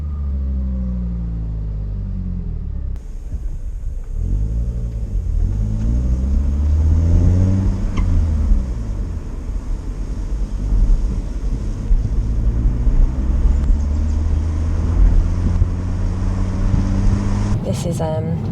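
A 2006 Volvo C30 2.4i with a back box and catalytic converters drones steadily while driving, a loud low engine and exhaust rumble mixed with wind noise and someone talking over it.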